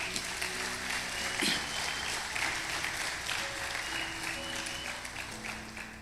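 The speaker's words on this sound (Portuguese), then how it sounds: "Vamos aplaudir nosso Deus bem forte?" Congregation in a church clapping loudly and steadily, a continuous wash of many hands applauding, with faint music tones underneath and no talk over it.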